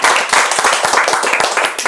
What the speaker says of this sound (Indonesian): Tepuk tangan buat Bosowa ya.